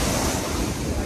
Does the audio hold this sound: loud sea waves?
yes